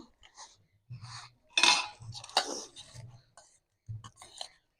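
Fried rice spooned out of a pot onto a banana leaf at home, with a few sharp metal spoon-on-pot clinks and scrapes in short bursts and soft whispered voices in between.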